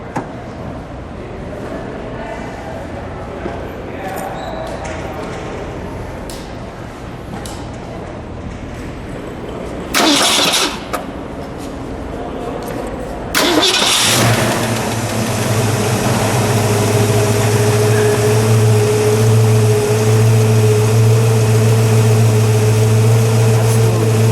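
A 1964 Ford Falcon Sprint's 260 V8 engine cranks and fires up, settling into a loud, steady low rumbling idle, with brief bursts of revving and some talking beforehand.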